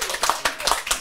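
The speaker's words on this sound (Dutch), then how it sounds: "Applaus." A small group claps briefly in a classroom-style setting, a few quick uneven bursts of hands close by.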